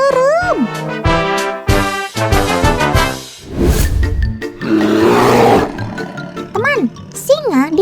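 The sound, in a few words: lion roaring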